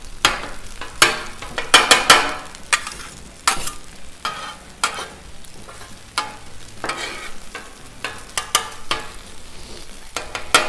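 Chopped Thanksgiving leftovers cook on a Blackstone griddle, sizzling steadily under repeated sharp metal spatula scrapes and chops that come in irregular clusters, loud and close.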